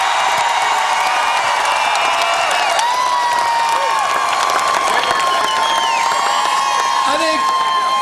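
Large crowd cheering at the Pittsburgh Penguins Stanley Cup victory parade, a steady dense roar of voices with scattered whoops and whistles throughout, heard from within the crowd.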